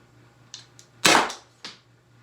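Byrna CO2 launcher firing: a few sharp pops, one much louder central shot with a decaying hiss, close and clear over a quiet background hum.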